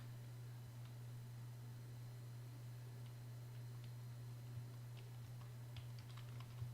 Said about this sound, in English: So I have pressed the left arrow in my keyboard